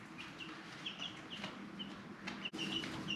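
Chickens and chicks on a homestead give soft, repeated clucks and peeps at a moderate distance over a low ambient background.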